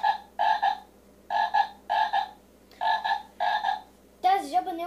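A toy frog piggy bank croaks in a steady series of paired, evenly spaced calls close by, and a brief wavering electronic tone follows at the end; no one speaks over it.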